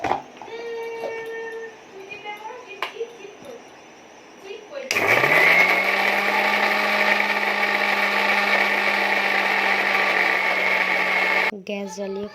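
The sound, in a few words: mixer grinding black mustard, poppy seeds, green chillies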